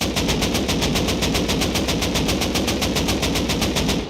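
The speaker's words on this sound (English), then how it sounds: "But if I fire this now with ADS," Automatic weapon fire in the Rust console game while aiming down sights: a rapid, evenly spaced stream of loud gunshots with a dense, punchy texture, sustained for about four seconds with no voices.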